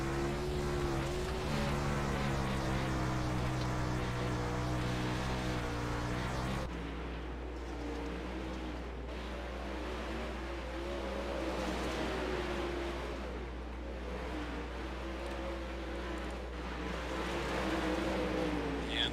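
360 sprint cars circle the Limaland dirt oval in warm-up laps, a steady engine roar with rising and falling passes and tonal engine whine throughout, no talk.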